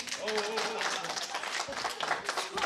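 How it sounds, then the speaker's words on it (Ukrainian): Wedding guests clap at a Ukrainian wedding reception in a bar in Budaniv, a dense burst of many hands over a voice or two, steady and fairly close for a few seconds. "Оплески, оплески."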